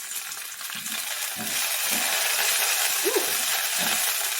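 Bok choy stems sizzling and frying in a pan while being stirred, a steady hiss with soft scraping movements and a brief vocal exclamation.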